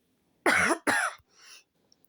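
Two sharp coughs close to the mic, followed by a softer breathy exhale, then quiet.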